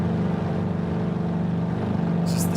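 Steady droning hum of an ultralight plane's Boxer twin engine in Flight Simulator 2020, a loud, even engine tone with no talk, a brief hiss entering near the end.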